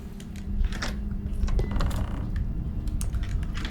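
Bolt cutters work inside a horror video game set at an abandoned summer camp, giving a dense run of metallic clicks and clattering mechanism noise over a low rumble, moderately loud and with no talk.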